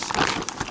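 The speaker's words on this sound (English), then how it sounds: "little plastic bag," A small plastic bag holding car hardware screws for Volvo XC90 mud flaps crinkles in one brief, close, loud rustle.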